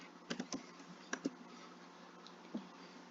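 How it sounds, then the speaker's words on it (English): Short burst of computer keyboard typing: a handful of uneven, close keystrokes in quick clusters, then a final single tap over faint background hiss. "So it goes start run cmd and we type ipconfig."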